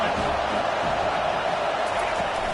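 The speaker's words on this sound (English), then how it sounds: "This crowd bringing the energy and noise early." A dense, continuous roar from a large college football stadium crowd at a USC vs Rutgers game, loud and unbroken, with a commentator's voice faintly mixed in.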